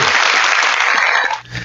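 Podcast hosts clap for themselves in a brief, dense burst of close applause that lasts about a second and a half, then trails off.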